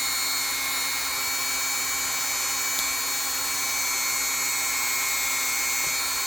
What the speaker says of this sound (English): That's what makes these rotary tools so handy.